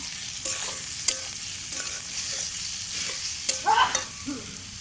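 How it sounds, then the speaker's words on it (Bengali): Eggplant pieces seasoned with salt and turmeric fry in a pan with a steady sizzle, broken by several sharp clicks and scrapes of stirring and a brief louder crackle near the end. "লাল লাল করে ভাজবো"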